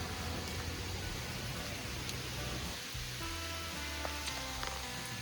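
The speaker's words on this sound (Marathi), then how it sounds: "आता जोरातच आलाय पाऊस" Heavy rain pours down at a farmhouse in cool weather, a steady dense hiss of drops drumming on surfaces that fills the whole stretch, briefly easing near the middle before continuing, with no voices.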